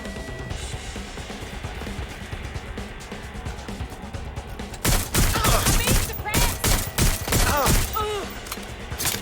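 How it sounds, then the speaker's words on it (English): In the video game Watch Dogs: Legion, gunfire first rattles faintly, then erupts into loud, rapid bursts of shots and impacts in the second half, with a brief voice under the shooting. "Gunfire!"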